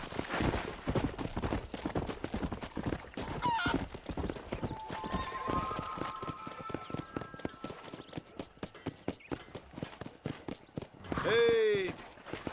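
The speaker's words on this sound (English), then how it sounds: "I'll show you how we ride around these parts. Giddy up!" Horse hooves clip-clop at a lively trot while riding in the Western video game Red Dead Redemption, with a clear neigh and whinny near the end and game sounds layered throughout.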